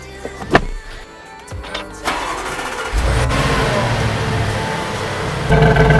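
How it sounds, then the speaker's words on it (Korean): A Bentley Bentayga SUV engine cranks and catches around the middle, settling into a steady, fairly loud idle rumble after a few clicks and thumps inside the cabin. "시동 걸자마자 들리는 소리가 엄청나네요"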